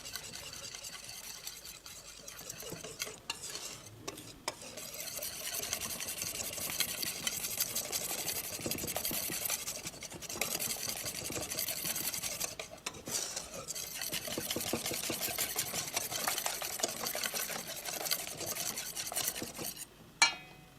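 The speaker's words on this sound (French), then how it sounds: "Fouettez d'abord le lait et la farine" Milk and flour being whisked in a bowl for crêpe batter, a steady, fast scraping and swishing of the whisk against the bowl that continues throughout with a few brief pauses, fairly quiet and close.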